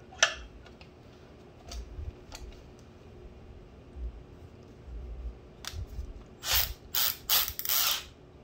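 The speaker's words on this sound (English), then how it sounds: "put it on my drill here" Metallic clicks and ratcheting as a hay sampling probe is fitted and tightened onto a drill chuck, scattered close taps followed by a few rapid louder ratchet bursts near the end.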